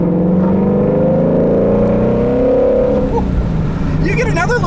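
A 2016 Shelby GT350 engine revs up loud and close while accelerating out on corners, a rising drone that builds for several seconds before easing off, heard over steady road and cabin noise.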